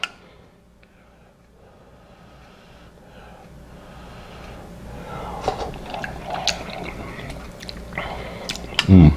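Someone chews a mouthful of chicken and sausage gumbo, wet squishy mastication and lip smacks rising from near quiet to louder close chewing, with a sharp burst at the end.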